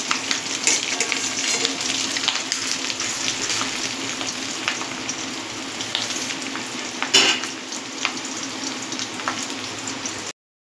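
Fish roe fritters sizzle steadily in hot oil in a pan for a home-style fish and roe curry, with a continuous dense crackle and occasional sharper clicks as pieces are flipped one by one, close and without talk.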